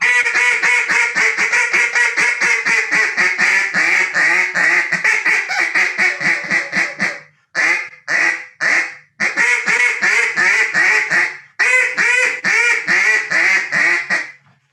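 A wooden-style duck call from a game call maker blown to imitate duck quacks, loud close runs of rapid nasal quacks broken by a few short pauses, with no talking over them.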